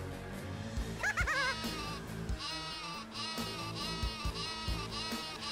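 Repeated wavering bleats from the sheep weapon in the Worms 2 video game ring out over cartoonish game music and effects, several loud, close bleats in a row.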